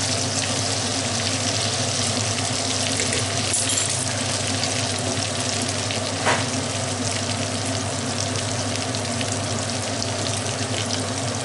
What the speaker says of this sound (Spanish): Ya me está friendo.